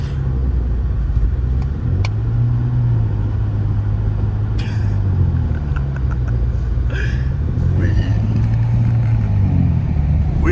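BMW 335i stuck in snow during an Oklahoma City blizzard, wheels spinning without traction: a steady low engine drone with rising and falling revs, fairly close, no voices.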